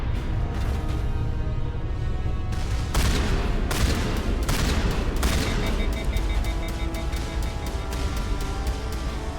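Shotgun blasts and sustained gunfire from the video game Mass Effect, Legendary Edition on Xbox Series X, with dense overlapping shots and booms filling the scene, loud and continuous with repeated sharp bursts throughout.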